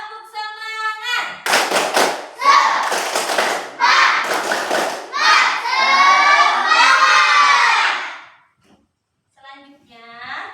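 A class of fourth-grade schoolchildren performs a loud clapping cheer in a classroom, rhythmic claps mixed with shouted chanting in bursts, then a brief pause and a teacher's voice.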